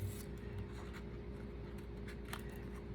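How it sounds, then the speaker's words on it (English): Scissors snip through paper in slow, quiet cuts, with soft scraping and rustling over a steady low background hum. "closing the scissors very slowly and turning the paper at the same time"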